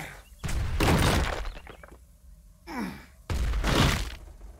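Grenade blasts in the Dysmantle video game, two loud broadband bursts with crashing debris, separated by a quieter rumbling stretch, no talking.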